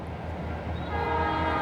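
A southbound local freight train led by an Illinois Central SD70 and an ex-Grand Trunk Western SD40-2 in Illinois, a steady broad rumble of locomotives and cars growing slightly louder, with a faint horn tone rising toward the end.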